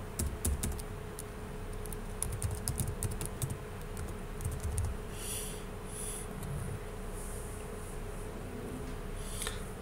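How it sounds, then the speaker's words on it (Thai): Rapid computer keyboard keystrokes as a password is typed, an irregular run of light clicks through the first half and then sparser taps, close and fairly quiet over a steady room hum, with no talking. "พิมพ์ป้อนรหัสผ่าน"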